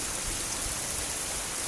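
Steady rain pours down outdoors while a car is being washed, a dense, even hiss with no breaks and no voices.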